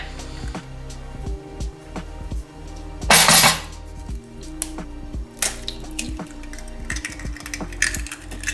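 A fork beats two eggs in a bowl with a series of close, uneven clinks and taps against the side, including one louder clatter partway through.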